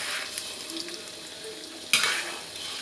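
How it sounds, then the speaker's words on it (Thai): An egg frying in very hot oil, puffing up, with a steady low sizzle and scattered spatter crackles, then a sharp louder burst of hiss near the end, no one speaking. "วันนี้น้ำมันร้อนมาก ไข่ฟูเลยค่ะ"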